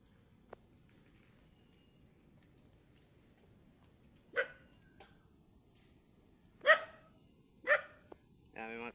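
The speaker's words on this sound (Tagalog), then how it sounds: "may mga kasama tayong aso mandaragat" Dogs on a boat at sea bark in a few sharp, separate bursts, one near the middle and a cluster toward the end, over quiet background with people talking.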